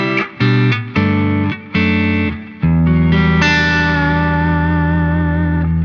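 Electric guitar played through a Boss Katana amp with an ENGL Cabloader 1x12 cabinet impulse response: several short, loud clean-to-driven chord stabs with brief gaps, then one sustained chord ringing out with reverb, no talking.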